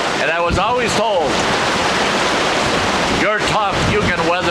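Heavy rain pours down in a thunderstorm at Black Lake, a dense continuous hiss filling the whole stretch, while someone speaks over it near the start and again near the end.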